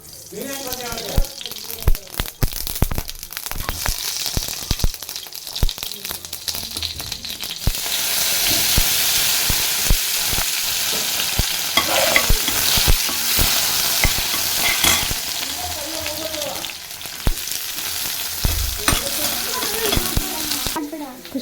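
Mustard seeds dropped into hot oil sizzle loudly and crackle in a home kitchen, with stirring clatter and scattered pops, a dense hiss swelling midway while voices come in at times.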